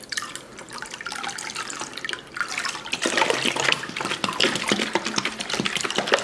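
Water pours steadily into a container for making mead, splashing and gurgling, growing louder and more turbulent partway through.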